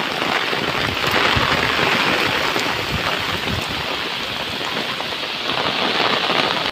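Heavy monsoon rain pours down in the Konkan countryside near paddy fields, a dense, unbroken roar of drops hitting surfaces that stays loud and even from start to finish, with no talking.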